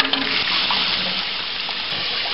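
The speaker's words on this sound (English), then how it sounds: "Then you can drop the float and let the water come back in the tank." Water rushes steadily into a toilet tank during a repair, a continuous loud gushing hiss with no voices over it.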